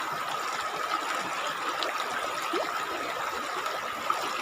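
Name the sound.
rocky river stream flowing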